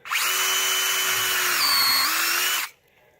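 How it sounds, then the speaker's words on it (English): A brushless power drill whirs at full speed for a couple of seconds while tapping a thread with a precision tapper, its pitch dipping briefly under load, then stops abruptly. "I'm going to go full bore with my drill, brushless of course."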